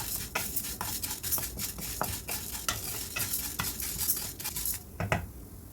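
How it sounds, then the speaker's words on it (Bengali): Lentils dry-roasting without oil in a kadai over a medium gas flame, stirred with a utensil: steady rhythmic scraping and rustling of the dry grains against the metal pan, close and continuous, with no talk. "এবার একটা কড়াইয়ের মধ্যে এটাকে একটু নেড়ে চেড়ে নেব কড়াইতে আমি কোনো রকম তেল দিইনি"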